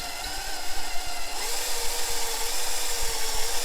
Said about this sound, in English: drill bit is extremely dull, or you can see how it's all gummed up with the wax and dielectric material and aluminum.